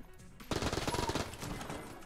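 A rapid, close burst of SMG fire in the video game Enter the Gungeon starts abruptly and rattles on for over a second before trailing off into a fainter tail.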